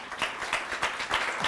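An audience clapping during a sermon-style talk: dense, steady applause from a crowd with a few sharper swells, with no voices over it.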